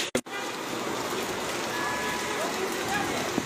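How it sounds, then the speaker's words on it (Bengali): Steady rain falls in Sylhet, a broad even hiss that holds through the clip after a brief thump at the start, with no voices. "আপনারা স্ক্রিনে যেভাবে দেখছে সেভাবে বৃষ্টি হচ্ছে"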